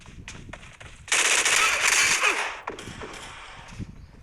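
Rapid automatic gunfire from a small gun in the mobile battle royale game PUBG Mobile, a loud sustained burst of shots lasting over a second, followed by quieter scattered game sounds and footsteps.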